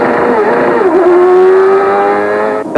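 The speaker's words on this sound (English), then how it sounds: "That is Jimmy Vassar having difficulty getting that fifth gear." Jimmy Vasser's CART Indy car at the 1996 Surfers Paradise street race, engine droning loud and steady with harmonic pitch rising and wavering as the driver struggles to engage fifth gear, a brief drop near the end.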